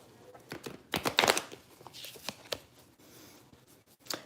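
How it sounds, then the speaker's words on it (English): Tarot cards being shuffled by hand in a quiet room, a series of soft riffling bursts and flicks with brief pauses between them, close and fairly faint. "Shuffle again."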